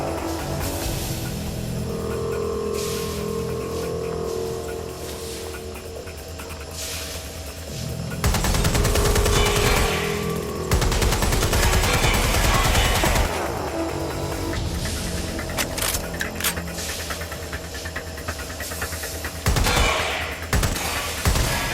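Gunfire and explosions ring out in a Watch Dogs Legion battle. Loud bursts of automatic fire and heavy booms come in waves over a constant game soundtrack, with several dense clusters of shots.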